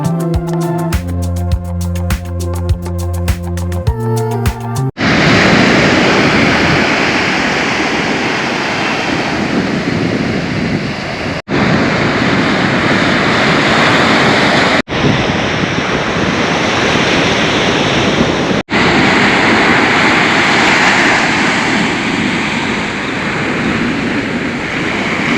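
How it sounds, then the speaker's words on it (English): Loud, roaring surf crashes continuously against rocks, with heavy wind buffeting the microphone; a brief musical intro plays at the very start. "Another spot with stronger waves because of the rock and lots of fishermen boats."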